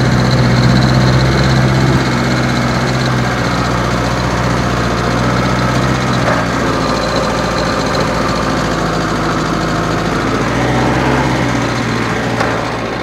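A Unimog 411 engine revs loud and steady with a throaty, slightly knocking drone as the truck drives through snow with the differential lock engaged, continuous throughout.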